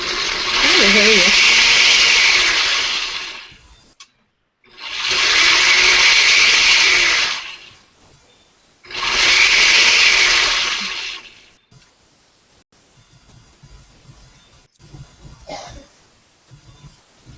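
A kitchen blender whirs loudly in three separate bursts of about four seconds each while Caribbean food with Scotch bonnet peppers is prepared, followed by quieter handling clatter.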